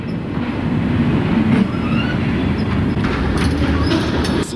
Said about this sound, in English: A lot of cool elements can be drawn from seeing these cars roll by.